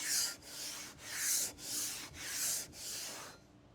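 A heavy hand sanding block rubs back and forth over primer on a flat panel under light pressure, making about six steady, close, hissing strokes in an even rhythm before stopping, with no talking.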